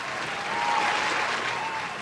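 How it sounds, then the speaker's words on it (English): A burst of steady clapping from a crowd fills the whole moment, dense and sustained without a break. "I wanted to say round of applause."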